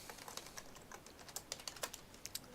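Computer keyboard typing a command, with quiet, rapid, irregular key clicks that grow slightly more distinct toward the end, with no speech.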